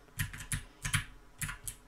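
Computer keyboard keys clatter in quick clustered bursts of taps with short pauses between, close and moderately loud, during play of the hockey game NHL94.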